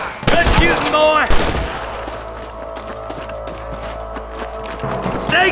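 Gunfire from a Red Dead Redemption shootout, several sharp loud shots at the start followed by scattered fainter cracks over a steady backdrop of game ambience and music.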